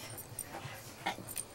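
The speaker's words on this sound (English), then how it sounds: "This puppy likes to eat things." Soft, faint whimpers and small yips from a puppy indoors, a few brief cries scattered over background hiss.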